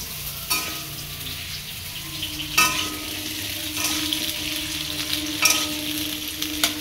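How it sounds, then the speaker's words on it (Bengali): Meat frying in a pan at home, a steady close sizzle running throughout with a few sharp clinks from stirring at intervals. "অভিবাবু ওখানে মাংস রান্না করছেন"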